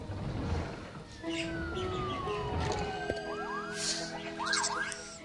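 Ambulance siren in the city-building game SimCity, a wailing tone sweeping up and down amid a busy city soundscape with other vehicle sounds, moderately loud and mixed with background noise.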